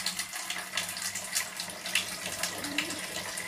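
Water runs steadily from a kitchen tap, a continuous close hiss and splash with slight fluctuations, heard alone without talk.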